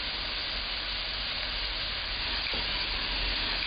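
Cloves and a broken cinnamon stick sizzle steadily in a hot pan, giving a continuous close frying hiss, with a faint scrape of stirring near the end.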